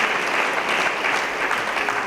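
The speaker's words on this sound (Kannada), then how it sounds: "ಚಪ್ಪಾಳೆ ದೇವರ ಮಹಿಮೆ ಪಡಿಸೋಣ" A church congregation at a Sunday service bursts into sustained applause, a thick, even wash of many hands clapping close by with no break.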